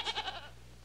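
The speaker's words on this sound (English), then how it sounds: "I could have sworn I heard a goat" A goat bleats in a short, wavering burst of three pulses that fades out quickly, heard alone and at moderate distance.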